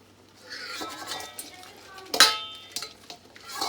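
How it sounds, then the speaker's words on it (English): Lobster dropped into a seafood boil pot alongside crab and shrimp, a sharp metallic clank and splash near the middle, with scattered kitchen clinks and a person talking before and after. "So we're gonna add our lobster now."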